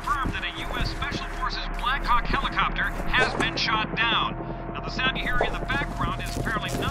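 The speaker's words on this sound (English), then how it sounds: "apparently not a U.S. military helicopter, but rather one belonging to the mysterious assailant." A helicopter from the video game F.E.A.R., belonging to a mysterious assailant rather than the U.S. military, drones with a low steady rotor rumble beneath continuous talk.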